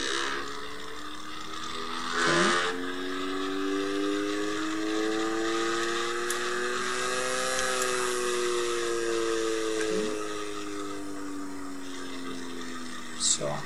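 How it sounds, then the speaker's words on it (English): A benchtop microcentrifuge spins a microfuge tube of liquid in a lab, giving a loud, steady whine whose pitch rises and falls across the run, with brief clicks at start and end. "It's just there to spin down all the liquid to the bottom of this microfuge tube."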